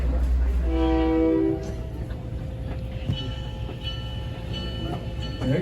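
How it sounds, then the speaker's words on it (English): On the OC&T railroad, a train horn blows a loud, close tone, then fades into the rumble and clatter of rolling rail cars as a faint higher tone sounds again. "There you got your two whistles."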